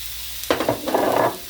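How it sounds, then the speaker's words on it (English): Onions hit a hot pan with a sudden loud sizzle, then a crackling fry, stirred briefly over a quiet background. "And I'm going to cook my onions a little bit."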